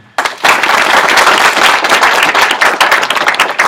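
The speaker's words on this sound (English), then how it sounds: "So let's give one more round of applause to the nursing and social work." A large audience at an honors induction ceremony claps loudly and steadily for nursing and social work students, a dense, sustained burst of applause that starts abruptly and continues without talk.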